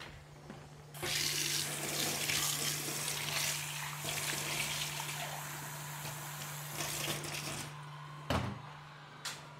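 Water runs steadily from a tap for several seconds, a continuous splashing hiss into a sink, ending with a couple of brief knocks.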